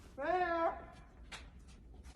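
A brief high, wavering whimper up close from a dog lost in the snow, followed by faint scuffling and quiet background noise.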